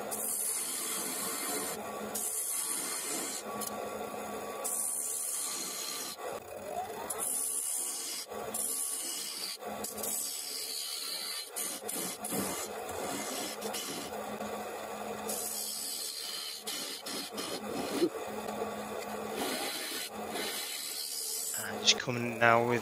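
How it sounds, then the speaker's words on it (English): A number one hollower scrapes out the middle of a sycamore bowl spinning on a lathe, giving a continuous rough hissing rasp with pulsing breaks as the tool is pushed in and withdrawn. "just before I started to cut out the middle there with the number one hollower"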